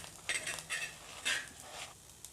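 Chopped shallots and cumin are stirred in a hot clay pan, with a few scraping, clinking strokes of a spoon against the pot, fairly quiet and close.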